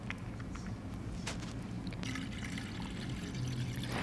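Water poured from a pitcher to fill a glass of lemon water, a steady continuous trickle and splash lasting several seconds, close and moderately loud with no talking.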